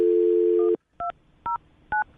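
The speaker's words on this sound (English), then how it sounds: "I'm going to dial her phone number right now" A steady dial tone cuts off, then three separate beeps from a telephone keypad follow at an even pace, close and clear with no talk.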